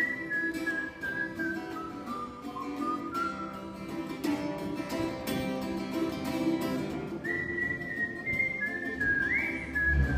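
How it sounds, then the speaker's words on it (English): A person whistles a melodic tune, clear and close, with sustained pitched notes that glide and trill, over soft background music and no speech. "That's pretty fancy whistle, huh?"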